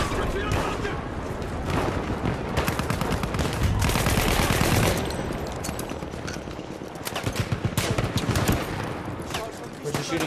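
Gunfire in the shooter Battlefield 1 during a Conquest match at Fao Fortress: dense rapid bursts of automatic fire and heavy booms, near and loud, with players talking throughout.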